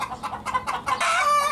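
Pet chickens cluck and squawk in short, excited bursts close by, with no talk over them.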